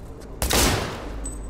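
Gunfire rings out in the Cyberpunk video game: one sharp, loud burst hits abruptly after a short quiet lead-in and then trails off into a lingering rumble.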